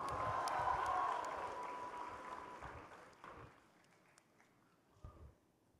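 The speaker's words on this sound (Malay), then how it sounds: "Kita berikan tepukan untuk semua ketua-ketua bahagian." Applause from the audience at a national squad launch ceremony, fairly faint and distant, strongest at the start and then fading and thinning out over a few seconds, with scattered claps and crowd noise near the end.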